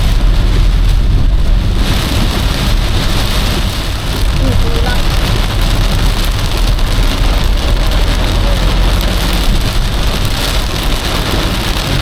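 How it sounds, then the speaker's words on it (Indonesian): Heavy rain and storm wind pounding a Daihatsu Ayla while driving in traffic near Palimanan, a loud constant roar of drumming rain over engine and road rumble. "Hujannya deras banget,"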